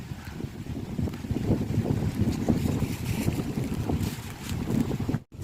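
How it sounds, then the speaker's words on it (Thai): Dry, cool wind blows steadily across a forested hillside where wild vegetables are being gathered, a loud, continuous low rumble buffeting the microphone, briefly dropping out near the end. "ลมแห้งอีหลีเย็นสบายเลยครับ"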